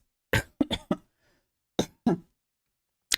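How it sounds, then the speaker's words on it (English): A series of sharp, close coughs in two short bursts with a pause between, followed by one more cough at the end. "I seriously can't wait until I don't cough anymore"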